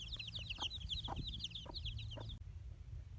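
A mother hen with her chicks makes a run of high, rapid peeping from the chicks over a few soft low clucks from the hen. The sound is close and steady, then stops abruptly near the end, leaving a quieter background.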